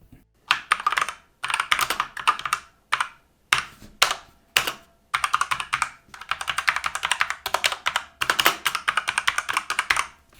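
Steady bursts of typing on a Cougar Combat keyboard with linear switches, soft, muted keystrokes in rapid runs separated by short pauses, close and clear with no talking.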